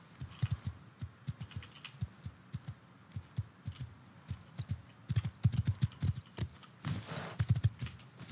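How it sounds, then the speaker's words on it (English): Steady clip-clop of horse hooves trotting in the game Rust, fairly close, with an uneven rhythm that speeds up and thickens toward the end. "Is that a horse?"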